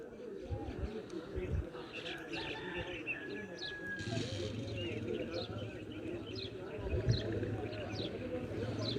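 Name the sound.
pigeons cooing after landing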